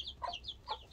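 Backyard chicks peep in quick high chirps while a hen gives a couple of low clucks, close and quiet.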